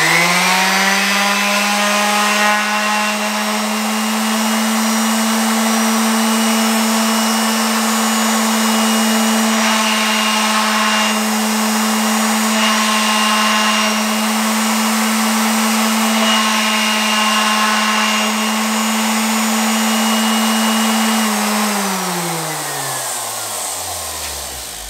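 A random orbital sander spins up to maximum speed, giving a loud, steady motor whine with a strong hum that holds for about twenty seconds, then winds down as it is switched off near the end; no talk.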